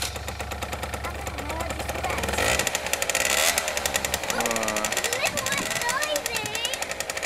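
A homemade go-kart engine starts up and runs with a loud, rough, buzzing putter that rises and revs unevenly, close by, while people talk over it.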